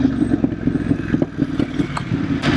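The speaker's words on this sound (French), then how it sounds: "La moto claque toujours autant." A BMW F900R motorcycle engine idling nearby on a sunny day, a steady low rumble with rapid mechanical clatter and a few sharper pops, running alone.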